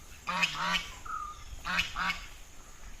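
Ducks bathing in a water-filled tank quack in two loud bursts of nasal calls, close by, with a brief higher squeak between them over quiet outdoor background.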